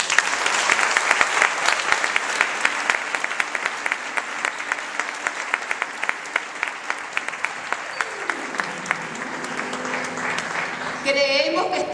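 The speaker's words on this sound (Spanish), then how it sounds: "Vamos a darle un aplauso." A church congregation applauds at a Pentecost celebration, dense sustained clapping that fills the hall, with a tonal voice or instrument sliding in toward the end.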